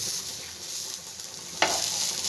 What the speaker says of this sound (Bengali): কত অল্প তেলে বেগুন ভাজা